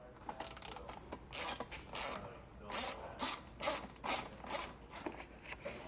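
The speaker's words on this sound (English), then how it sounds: "We're now going to have 2 T30 Torx bits behind our fascia here that we need to remove." A ratchet wrench backs out two T30 Torx bolts from a car's bumper beam behind the front fascia while a Roadmaster base plate is installed. It gives repeated short, raspy clicking bursts, close and fairly quiet, with pauses between strokes.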